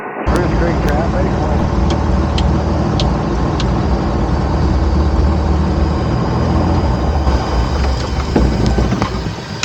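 A HonjaJet's engines wind down after landing, a loud, steady broadband roar with tonal whine running throughout, heard from inside the cockpit with occasional clicks and faint voices.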